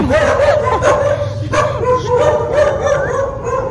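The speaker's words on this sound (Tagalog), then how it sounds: "tingnan niyo yung aso nila, oh" Dogs yip, whine and bark in a lively, continuous stretch, close by, with some human voices mixed in.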